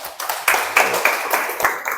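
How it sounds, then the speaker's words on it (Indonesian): A class claps for a student group in a vocational school lesson, a short run of sharp, close hand claps in an uneven rhythm, with no talk over them. "Oke, keren kelompok 2. Tepuk tangan."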